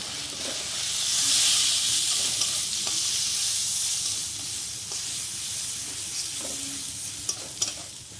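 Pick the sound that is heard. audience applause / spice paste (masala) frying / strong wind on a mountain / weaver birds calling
spice paste (masala) frying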